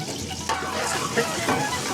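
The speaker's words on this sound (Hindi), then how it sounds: "अब हम इसमें ऐड करेंगे लहसुन।" Garlic sizzles as it drops into hot oil in a home kitchen, a faint crackling hiss with a few brief bursts of spattering close by.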